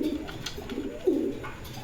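Damascene pigeons coo softly and repeatedly in low, rolling murmurs, close by, with no talk over them.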